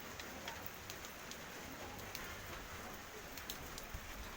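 Steady rain falls outdoors, a soft continuous patter of drops on surfaces with occasional sharper individual drips, fairly faint and even throughout, with no talking.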